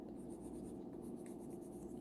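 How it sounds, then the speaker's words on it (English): Steady scratching of a pencil marking on a paper score sheet during a dice board game, continuous and close throughout, with no talking. "So take a pencil, pen, whatever, and you just mark it out."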